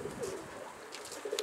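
An escaped pigeon that has just landed gives a few soft, low coos, faint and somewhat distant, with a brief rustle toward the end and no voices.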